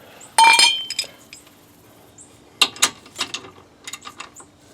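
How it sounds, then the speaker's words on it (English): Rusty pipe slipped over a wrench as a makeshift breaker bar on the rear brake bolts of a 2011-2017 Honda Odyssey, giving two close bursts of sharp metallic clinking and rattling separated by a quiet gap, with no talking. "you can do what I do and use this rusty pipe"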